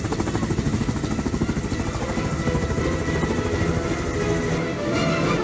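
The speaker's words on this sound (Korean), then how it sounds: "지금 산불 진화를 위해 창녕군 임차 헬기가 현장 출동을" A rented county firefighting helicopter stands ready for wildfire dispatch during a Changnyeong County safety drill, its rotor beating in a loud, steady, close chop with engine whine throughout, alone without talk.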